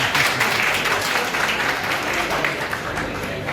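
An audience at a political youth convention in Jammu breaks into sustained applause, many hands clapping together in a dense, even roar from a large hall crowd.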